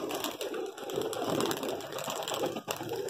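A high flyer pigeon coos softly amid a dense, noisy background of rustling and chatter, the calls faint and continuous.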